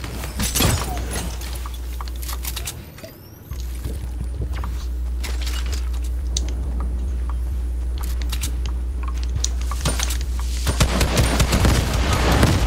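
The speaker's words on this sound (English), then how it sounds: "A laser gun." Laser gun fire in the Fortnite video game: loud, rapid bursts of electronic shots in clustered volleys with sharp crackling transients over a constant low game hum, with a brief drop-out early on.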